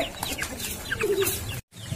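A chicken clucks in short, close, repeated calls during an Indonesian comedy film scene, with a brief moment of silence near the end.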